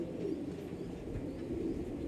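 Young Golden Eyes pigeons, a male and a female, coo softly with low rolling calls close by over a quiet, even background.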